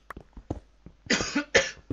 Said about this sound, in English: Why do I have to get a cough?